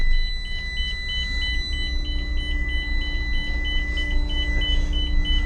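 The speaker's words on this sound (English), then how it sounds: "So it's beeping because the air pressure's just down and the door needs resetting." A rapid, steady electronic low air pressure warning beep repeats continuously over a low engine rumble inside a truck cab during a snowy start.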